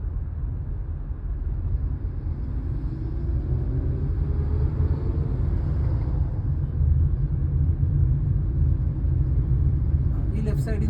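A car in Karuvatta picks up speed gently during a driving lesson, a low, steady engine and road rumble heard from inside the cabin that rises slightly in level over time, with no talking.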